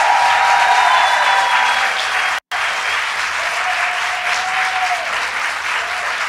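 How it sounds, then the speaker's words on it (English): A crowd applauds steadily for legislators after a vote on an abortion bill, a continuous wash of many clapping hands broken by one brief silent gap. "let's give a round of applause to all the legislators who finally got it done."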